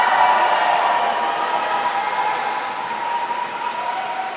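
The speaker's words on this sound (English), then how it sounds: "I do love how loud the crowd is every single time for Abigail." A large crowd roars and cheers steadily at a LudoSport lightsaber combat arena in Manchester, a continuous loud wash of voices with scattered claps, no single voice standing out.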